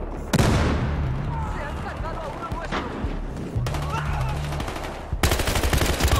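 Bursts of loud automatic gunfire and shots from the PS4 video game Battlefield Hardline, rapid and close, come in several volleys with brief lulls between them.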